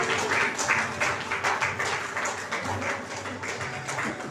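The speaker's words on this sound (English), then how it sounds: "A big round of applause." A crowd at a children's award ceremony in Goa gives a dense, steady round of applause for an honoree in the creative performance category, continuous and moderately distant.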